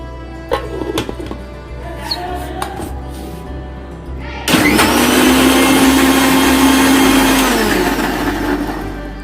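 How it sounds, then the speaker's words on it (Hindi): A mixer grinder blends chocolate kulfi ice cream mixture, starting abruptly partway through with a loud, steady whirring motor roar that holds for several seconds after quiet kitchen handling sounds. "अब मैं इसको 15 से 20 सेकंड के लिए मैं इसको इसमें ब्लेंड कर लूँगा।"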